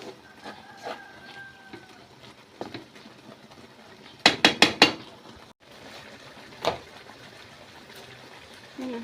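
Bagoong being stirred in a cooking pan: sporadic scrapes and light clinks of a utensil against the pan, a quick cluster of four sharp clacks midway, and otherwise quiet, with no talking.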